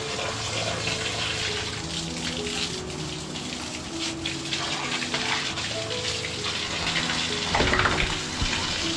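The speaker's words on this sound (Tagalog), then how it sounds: "Lagyan ko na siya ng tubig kasi ito ang ibubuhos ko dito sa kulungan nila" Water runs steadily into a container of soap disinfectant for cleaning a pig pen, a continuous splashing fill that rises slightly in pitch near the end, close and alone.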